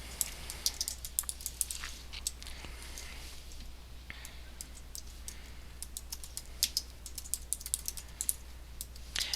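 Steady rapid typing on a computer keyboard while filling in a resume, close crisp key clicks in uneven bursts over a low constant hum, no voices.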